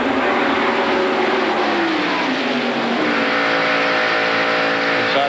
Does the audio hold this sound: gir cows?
no